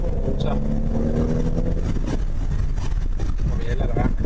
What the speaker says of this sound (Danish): lægge mærke til den meget sprøde og autentiske italienske lyd fra den her lille turbomotor